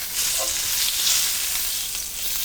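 A steak sizzles and fries steadily in a hot pan just after being flipped, a close, continuous crackling hiss with no talking.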